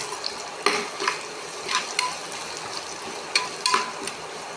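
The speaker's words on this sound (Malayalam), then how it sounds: "വെളുത്തുള്ളി ഇട്ട് കൊടുക്കണം കേട്ടോ അവളൊന്ന് നല്ല ബ്രൗൺ കളർ ആവണം" Garlic fries in oil until brown for a prawn and turmeric-root curry, giving a constant close sizzle punctuated by several sharp spoon scrapes and clinks against the pan, with no voices.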